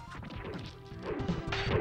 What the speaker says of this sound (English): Gotta throw the guys into his glass and break the glass.